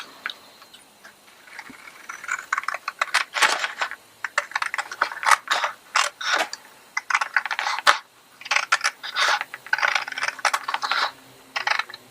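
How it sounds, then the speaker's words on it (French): Sharp scratchy cuts and clicks come in rapid irregular bursts, a blade scraping and snipping through material up close with brief pauses between strokes. "Et je découpe"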